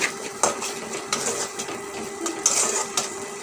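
Spices with turmeric and salt are sautéed and stirred in a pan, giving soft, close scrapes and light metallic clinks over a faint frying hiss.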